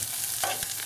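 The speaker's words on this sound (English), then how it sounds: "I'm just going to cook this on medium heat until the onion is nicely browned and caramelized" Onions fry on medium heat in a pan, a short burst of soft sizzling with one quick stirring scrape, close and fairly quiet.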